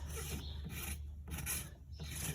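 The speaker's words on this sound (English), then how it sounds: "See how I change how my rasp then comes here," Short, close rasping strokes from a farrier's rasp filing a horse hoof: three or four quick, rough passes in a tight rhythm, with no voices.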